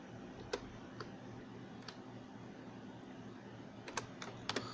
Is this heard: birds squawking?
no